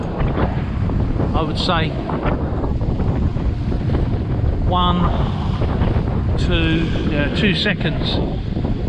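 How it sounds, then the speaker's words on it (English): Wind of about 15 knots buffets the microphone on a sailboat at sea as short, choppy whitecapped swell washes against the hull. A voice talks over the steady loud rush. "White caps everywhere. The wind's about 15-16 knots, but it's right on the nose."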